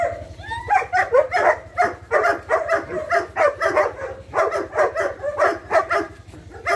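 A dog barks and yips rapidly and repeatedly at close range during protection training, an excited continuous run of barks with a low rumble beneath.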